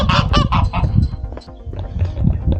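Several geese honk nearby in quick bursts at a village fire station in Vila Nova de Oliveirinha, Portugal, a few loud calls up front followed by quieter scattered honking.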